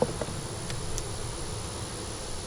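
Bees buzz around a beehive being checked after a month, a continuous close, busy insect drone with a couple of brief louder passes and no talk.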